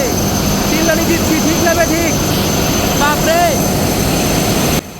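Loud, steady mechanical roar of a passenger ferry's diesel engines filling the enclosed engine room, constant throughout with a drone-like hum and whining harmonics, ending abruptly.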